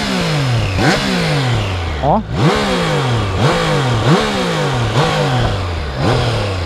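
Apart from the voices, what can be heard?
Triumph Tiger Sport 660 motorcycle engine revving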